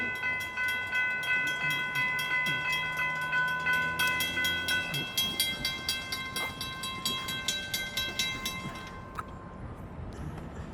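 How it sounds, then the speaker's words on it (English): An FEC intermodal freight train rolls past with a steady rhythmic clatter of wheels over rail joints, while a sustained horn blares loudly through the first half. "I heard the train, and yeah, there it comes around the corner."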